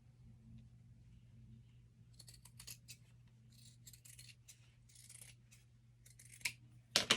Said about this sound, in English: We're cutting across our marks.